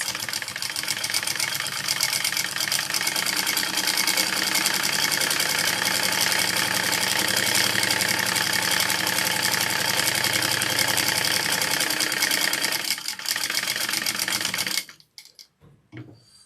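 A sewing machine basting fabric pieces runs nonstop for about fifteen seconds with a fast, steady mechanical whirring and needle chatter, then stops and leaves a few faint handling clicks.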